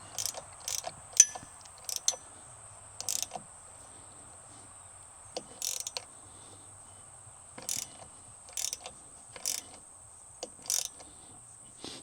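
Small metal clicks and ratcheting ticks from an Allen key tightening a side-by-side mirror mount, coming in short separated bursts of a few clicks each, close and fairly quiet with no talk.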